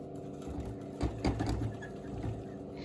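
A hamster running on a spinning exercise wheel makes a faint, continuous whirring rattle with light patter and small clicks, quiet and close.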